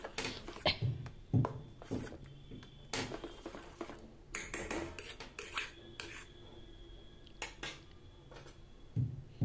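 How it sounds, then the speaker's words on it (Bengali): Soaked lentil paste batter mixed with a spoon in a bowl, quick irregular clinks and scrapes of metal against the bowl, close and fairly quiet with brief pauses between strokes. "প্রথমে একটু চামচ দিয়েই মেখে নিচ্ছি"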